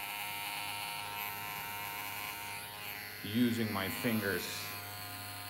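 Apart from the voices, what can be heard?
electric hair clipper buzzing during a flattop haircut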